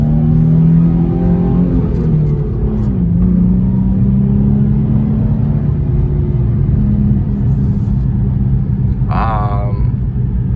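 A Nissan 350Z with the DE engine drives along, its low engine drone and road rumble steady and close, with pitch rising and falling gently as it cruises and a brief higher whine near the end.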